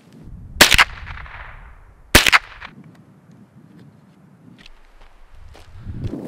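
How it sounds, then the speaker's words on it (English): Rifle shots fired outdoors by a river while sighting in, two sharp, loud cracks a second and a half apart, each with a short echoing tail, followed by quiet ambient noise. "So we're gonna shoot three shots and then we're gonna go and check."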